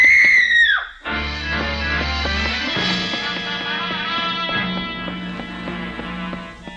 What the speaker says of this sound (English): Just as I reached the 3rd floor, I heard somebody scream.